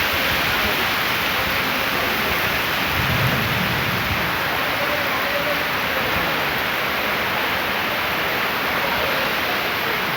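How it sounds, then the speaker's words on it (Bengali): Heavy rain pours steadily during a thunderstorm with hail in Old Dhaka, a dense continuous roar with a low rumble of thunder partway through. "ভয়ঙ্কর তুফান ঝড় তুফান বৃষ্টি হচ্ছে ভয়ঙ্কর ঝড় তুফান"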